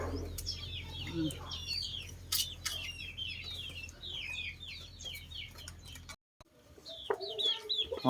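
Chickens cluck in an outdoor garden kitchen plot, several birds making short repeated clucks and squawks at moderate distance over a steady low hum, with a brief dropout midway and a person speaking faintly now and then.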